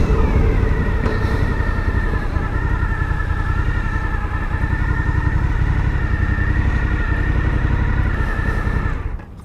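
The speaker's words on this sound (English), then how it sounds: "First ride on the Suzuki V-strom 1050xt." A 2021 Suzuki V-Strom 1050XT motorcycle under way, its engine droning loud and steady with a sustained mid-range note and heavy wind rumble, holding near-constant revs before cutting off at the end.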